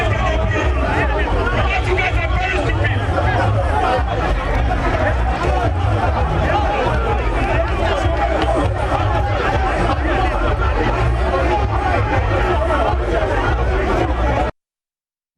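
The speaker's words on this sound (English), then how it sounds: "Police was forced to use pepper spray to disperse the agitated crowd." An agitated crowd of protesters presses against a police barricade, a dense, loud and unbroken roar of overlapping voices and shouting that goes on throughout before cutting off abruptly.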